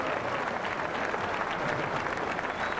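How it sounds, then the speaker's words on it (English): An audience applauds pinball designer George Gomez, a dense, steady patter of many hands clapping at moderate distance throughout, without talk. "Let's have a big round of applause for Mr. George Gomez, designer of NBA Fast Break."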